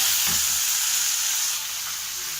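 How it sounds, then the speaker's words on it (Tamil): Onions sautéing in a pan for a home-made shark fish scramble (sura puttu), a steady close hiss of frying oil that eases slightly partway through, with a couple of faint low knocks early on. "நம்ம வெங்காயத்தை போட்டு வதக்கலாம்"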